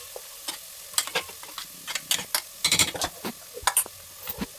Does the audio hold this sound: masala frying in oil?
yes